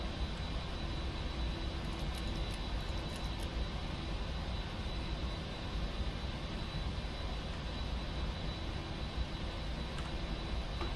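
Steady broadband engine drone of a PMDG 747 airliner taxiing in the Prepar3D flight simulator, a continuous even roar held throughout with no talk over it.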